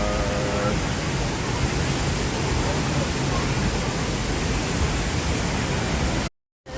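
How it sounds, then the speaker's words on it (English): Fortuna waterfall in Costa Rica roars as a steady, loud, broadband rush of falling water, continuous and close, with no pauses until a brief cut at the very end. "Fortuna waterfall, guys."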